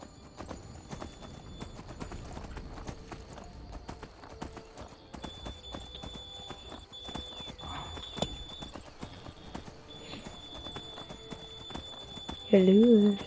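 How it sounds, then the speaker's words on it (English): Horse hooves clip-clop at a rapid galloping rhythm in the Skyrim video game, steady and close throughout, with a brief whinny near the end. "I don't know why the horse glitches through the floor."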